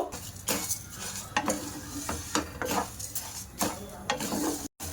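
Rice and lentils lightly frying in a frying pan, stirred with a utensil, give a soft steady sizzle broken by repeated scraping strokes and light clinks, close by with no talking.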